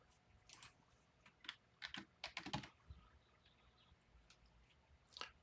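Typing on a computer keyboard at a desk, heard as scattered bursts of clicky keystrokes, some quick runs of several keys and pauses between, fairly close and alone without talk.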